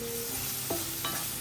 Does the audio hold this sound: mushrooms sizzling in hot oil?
yes